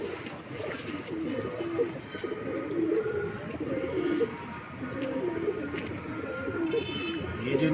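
Soft, repeated cooing of pigeons on a rooftop fills the air, low and rhythmic, with faint rustling in the background.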